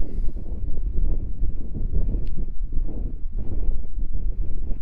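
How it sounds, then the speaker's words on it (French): Strong wind buffets the microphone in a constant low roar with gusty surges, no voices heard, on a mountain hiking trail in the Queyras. "il y a du vent, pas mal de vent"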